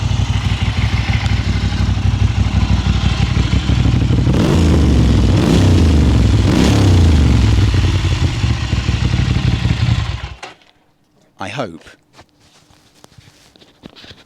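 A Ducati Monster 600cc motorcycle engine idles and revs loudly up close, rising and falling through several throttle blips, then cuts off to near silence with a few faint clicks and clatters.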